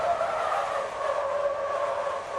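A car skidding and sliding in a racing video game, with tires squealing in a steady, unbroken screech alongside engine noise for the whole stretch.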